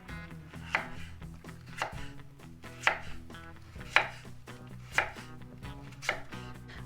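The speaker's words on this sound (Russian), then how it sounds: "Теперь нарезаем поперек, и у нас получатся брусочки." A knife chops through slices of potato to cut them into sticks, giving a series of sharp, distinct board strikes at an uneven, steady pace, close and clear with no talking.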